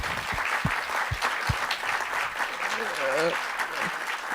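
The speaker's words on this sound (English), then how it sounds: "Round of applause." Steady applause from an audience fills the whole clip, a dense clapping texture with a brief voice rising over it near the middle.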